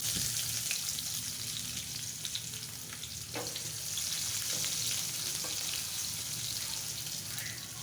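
Chopped onion sizzles in hot oil in a kadai as prawns with spinach are being cooked, a steady close frying hiss with a few sharp crackles and no talking.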